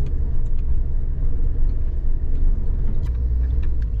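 Steady road traffic rumbles close by as cars move along a congested mountain road near La Trinidad, Baguio, a continuous low engine and tire drone with no talking.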